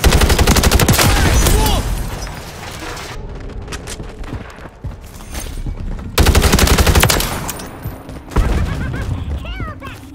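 Gunfire in Call of Duty MW3 on the Scrapyard map: loud, rapid automatic bursts that come in waves with brief lulls between them, mixed with game announcer voice lines and ambient battle noise.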